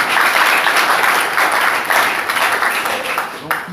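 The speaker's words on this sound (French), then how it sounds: "Applaudissons pour le Seigneur." A church congregation applauding for the Lord during a service, loud and continuous clapping from a large group, swelling and easing slightly, with a few raised voices mixed in.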